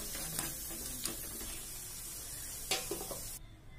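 Potatoes fry in a pan for a cauliflower dish, with a steady, close sizzle and the odd scrape of stirring before the sound cuts off.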